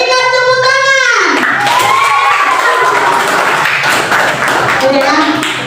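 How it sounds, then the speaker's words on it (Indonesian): Classroom group of children clapping hands together, a dense burst of claps under loud chatter and a teacher's voice, continuing steadily for several seconds. "Berikan tepuk tangan."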